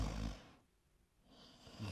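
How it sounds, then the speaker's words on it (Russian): Loud snoring from a Minecraft character comes as two heavy, rasping breaths, one at the start and one at the end, separated by a brief quiet gap, with no talk. "Это он храпит так?"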